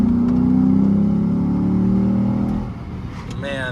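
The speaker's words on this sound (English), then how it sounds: "man, that V8 sound will never get old." A Lexus IS F V8 engine accelerating hard, a loud, steady mid-pitched roar that holds for about two and a half seconds before easing off, with a faint voice and a brief higher tone at the end.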